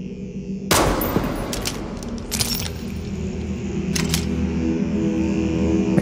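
Gunfire during shooting practice: a sharp loud report followed by several crisp shots and clattering, fairly close, with a steady background bed and no talk.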